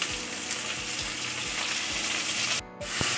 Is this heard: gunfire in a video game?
no